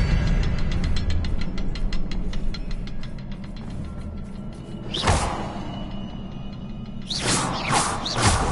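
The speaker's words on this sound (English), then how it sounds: "Expelliarmus." Expelliarmus spell cast in the Hogwarts Legacy video game: two bright swooshing bursts, one near the middle and another near the end, over a steady low game ambience with ringing tonal texture.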